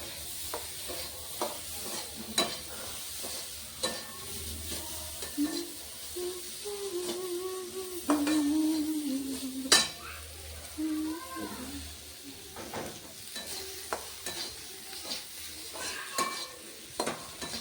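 Spring onion stalks and chopped chillies fry in a pan for an Indian spring onion curry, giving a soft, steady sizzle with scattered stirring clatter and a few sharper utensil knocks.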